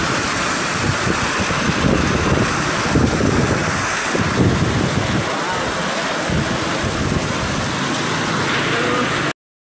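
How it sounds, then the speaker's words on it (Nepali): Heavy rain pours outdoors as a loud, dense, continuous roar mixed with wind buffeting the microphone. No other sound stands out from the wash. "एकदमै ठुलो पानी परिरहेको छ"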